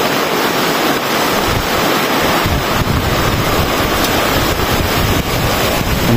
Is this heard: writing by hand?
no